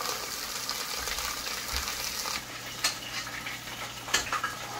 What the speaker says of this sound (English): So this Hassa, I fry it up a little bit just to get a little crispiness on the skin